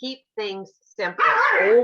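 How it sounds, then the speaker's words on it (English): A chihuahua gives several short, sharp yips and barks that end in a drawn-out whine, heard close up. A person is speaking just before the barks. "that's my dog. She wants down."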